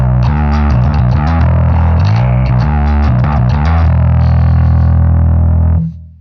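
Bass guitar played through a Laney Digbeth combo amp with the volume cranked, thick overdriven distorted notes in a loud, dense riff that ends on a long sustained note before cutting off.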